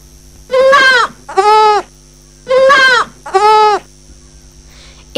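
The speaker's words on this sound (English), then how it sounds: "It's a goat." A goat bleats four times in two close pairs, loud and near, each call a wavering nasal cry, in a children's English lesson set on a farm.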